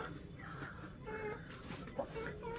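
Farm chickens cluck softly and intermittently at some distance, a faint, low backdrop with no one speaking.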